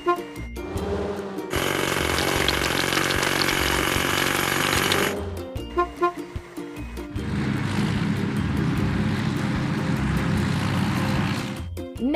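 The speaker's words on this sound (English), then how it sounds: "Hydraulic hammer. Pump. Keep up the good work. Let's crack the biggest rocks." Loud, rapid mechanical pounding of a hydraulic hammer breaking rock, running in two long bursts separated by a brief pause of clanks and engine noise.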